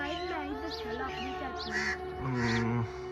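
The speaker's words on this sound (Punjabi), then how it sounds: "ਇੱਕ ਔਰ ਰੌਲਾ ਪਾਉਂਦਾ ਪਿਆ ਕਾਂ ਕਾਂ ਕਾਂ" Several harsh, nasal crow caws repeat close by, overlapping with other chattering bird calls against a lively outdoor background.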